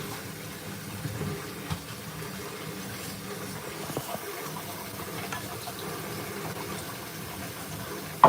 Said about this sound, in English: So I have my pot here, but I am going to go ahead and just give it a quick wash out.